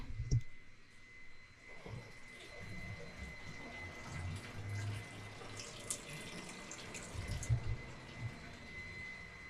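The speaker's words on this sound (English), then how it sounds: "I'm doing one last load of laundry" A washing machine runs a laundry load with water pouring and rushing in and light intermittent clicks, a steady close wash that swells and eases with low sloshing thumps.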